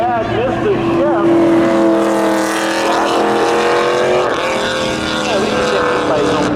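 Drag race cars at a spectator drag event run a lap off turn four, their engines a loud sustained roar with shifting pitch that continues throughout, with an announcer talking over the noise.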